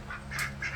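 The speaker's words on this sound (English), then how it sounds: "Like I said, I've got ducks." Ducks in a backyard chicken coop and run let out a few short, nasal quacks in quick succession, close by and moderately loud over a low steady background hum.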